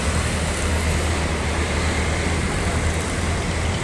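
Steady roar of road traffic as buses pass on a busy eastern route road after Eid al-Fitr, a continuous loud engine and tire rumble with no pauses.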